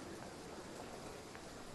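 Rain falls in the Scotrail route of the train simulator game Train Sim World 2, a soft, steady, faint hiss of drops pattering without a break and with no talk.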